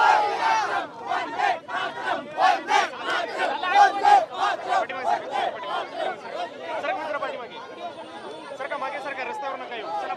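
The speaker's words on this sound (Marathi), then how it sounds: "पुण्यात मोठ्या प्रमाणात जल्लोष सुरू असल्याचं" A large crowd of young people on Fergusson College Road in Pune celebrates India's cricket win over Pakistan, with loud, dense chatter and rhythmic chanted shouts rising and falling close by for the whole stretch.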